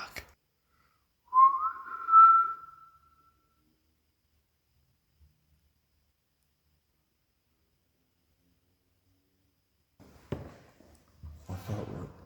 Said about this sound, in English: Can somebody whistle back and copy that?